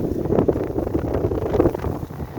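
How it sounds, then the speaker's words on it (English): Breezy wind gusts buffet the microphone in an overgrown front garden with long grass, a steady broadband rumble with rustling surges and no voices. "It's pretty breezy today."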